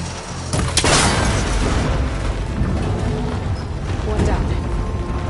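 A shot snaps a cable connector and sets off an explosion in Horizon Forbidden West, a sharp burst near the start followed by a loud rumbling blast and sustained roar, with a second impact later; game ambience runs underneath.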